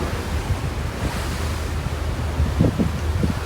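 Strong wind roars steadily across open sea from aboard a boat, with the wash of waves and low rumbling gusts buffeting the microphone throughout.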